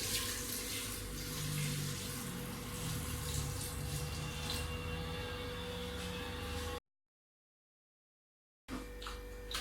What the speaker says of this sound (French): j'ajoute mon eau